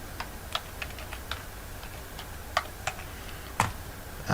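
Typing on a computer keyboard during a coding tutorial produces a scattered run of light, crisp key clicks at an uneven pace, close and fairly quiet, with no voice over them.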